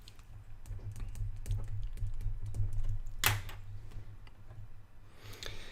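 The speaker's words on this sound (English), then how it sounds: "People are feverishly typing," Rapid clicking of game show contestants typing on computer keyboards, close and steady, with a brief sharper burst partway through over a low hum.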